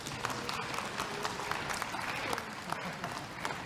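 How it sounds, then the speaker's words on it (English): An assembly audience at a general meeting applauds the National Youth Council, producing dense, steady clapping from a large crowd that fills the whole stretch at moderate loudness without a break. "Let's give them another round of applause."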